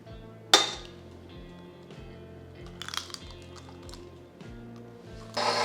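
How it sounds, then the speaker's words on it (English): Four eggs go into pound cake batter in a mixing bowl, with a sharp clink near the start and a crackling burst at the end over the steady, pulsing hum of a running mixer. "So now we're going to add our 4 eggs"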